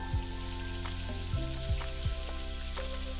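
Crab shells sizzling in a hot pot for crab bisque, a steady close frying hiss with a few knocks and scrapes as the shells shift, no voices.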